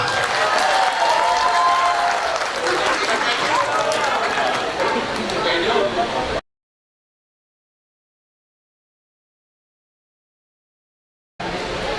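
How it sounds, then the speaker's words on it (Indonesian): A crowd applauds loudly and steadily for several seconds at a regional head candidates' debate in West Aceh. The sound cuts off abruptly into silence, then resumes briefly at the end. "Mari tepuk tangan yang meriah buat kita semua."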